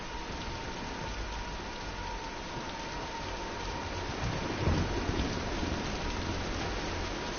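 Steady rain pours during a thunderstorm in the video game Tomb Raider, a constant even hiss with a low rumble swelling briefly partway through.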